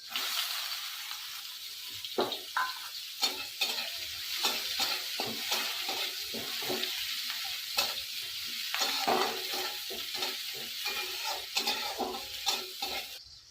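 Onions crackle and sizzle steadily in hot oil left from frying fish, with cumin added, and repeated scraping and clinking as a spoon stirs the pan.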